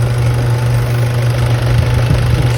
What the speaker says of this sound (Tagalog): umandar na yung ating Toyota Fortuner